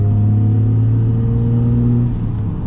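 A 700 hp big-turbo Cummins diesel swapped into a 2nd Gen truck pulls hard under load, a loud, steady low drone with a strong harmonic hum that shifts slightly near the end, heard from inside the cab.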